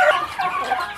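A Muscovy duck lets out a brief, hoarse call up close, loud and alone for about a second.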